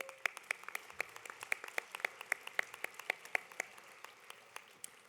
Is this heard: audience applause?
yes